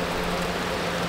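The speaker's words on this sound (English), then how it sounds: "We've got light rain right now" Light rain falling during an Ohio storm, heard as a steady, even hiss of drops throughout with no voices or other distinct sounds.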